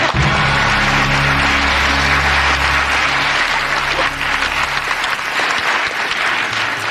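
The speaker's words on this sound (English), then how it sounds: "The audience is applauding the truthful answer" A studio audience at a game show applauds a contestant's truthful answer, a loud, continuous wash of clapping that holds steady for several seconds over a faint low hum.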